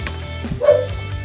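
A dog barks once or twice in short yips somewhere indoors or nearby, fairly faint beneath room noise with a brief whimpering edge.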